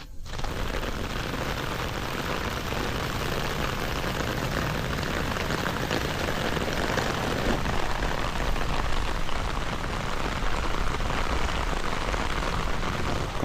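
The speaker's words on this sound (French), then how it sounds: "Que l'eau tombe dessus comme ça. Nous sommes en saison des pluies ici à Miami" Heavy rainy-season rain in Miami pours onto a Vantrue S1 Pro Max waterproof dash camera mounted on a car, a dense, loud, unbroken hiss of drops pattering on the surface for over thirteen seconds.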